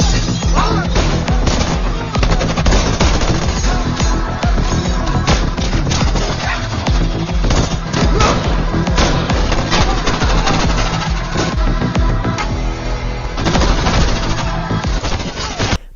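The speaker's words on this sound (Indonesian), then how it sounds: "mana mereka saling adu tembak yang menyebabkan anak buah di sana ketakutan." Gunfire from a gangster movie shootout as mafia men try to force their way into a building, a dense sustained barrage of shots and bursts running loud and continuous throughout, mixed with film score and effects.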